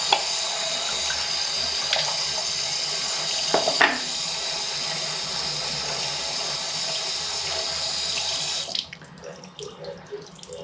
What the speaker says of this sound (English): So now let's wash the rollers.